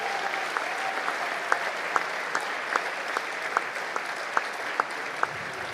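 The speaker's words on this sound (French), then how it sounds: "Et on peut déjà les applaudir" Steady applause from a festive congress audience greeting a music group from Canada, with sharp individual claps standing out above the dense clapping texture for the whole stretch.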